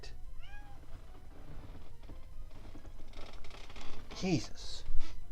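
A house cat meows a few times indoors, short rising calls up close, with someone talking around them and some rustling near the end.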